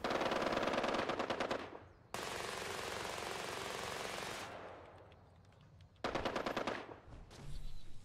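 Sustained bursts of automatic machine gun fire in a military shooter video game, loud and close, with long continuous volleys broken by short pauses and a final flurry.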